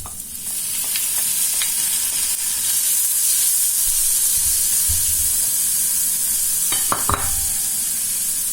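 Bell peppers and onions stir-frying with chicken in a hot wok, a steady loud sizzle and hiss throughout, with occasional scraping and clanks of the spatula against the pan.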